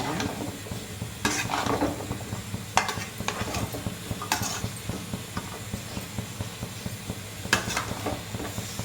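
Radish sambar is stirred in a pot with a ladle, making repeated scraping and knocking strokes over a soft bubbling simmer, with a few louder clanks against the rim. No one talks.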